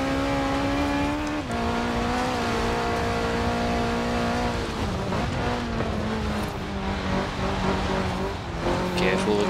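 A 1985 Ford RS200 Evolution in Forza Horizon 4 accelerates hard in a race, its engine droning loud and constant and rising in pitch as it shifts up through the gears, with brief tire noise.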